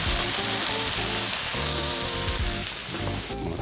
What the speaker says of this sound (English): I've got some butter and oil. All right, into the pan with my potatoes.